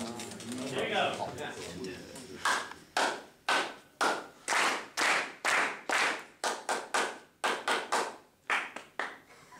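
A group of men at a choir workshop claps out short rhythmic patterns in sharp, loud bursts separated by pauses, each phrase a quick cluster of hand claps, after opening talk from a leader.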